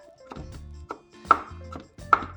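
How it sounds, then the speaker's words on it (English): A knife chops a medium-sized gherkin on a board: three crisp, evenly spaced cuts, close and clear, with no talking. "I'm just using one medium-sized gherkin. I'm just going to chop it."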